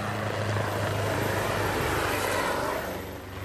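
A loud helicopter pulling a water skier drones continuously with a deep rotor throb and broad engine roar, fading slightly at the end.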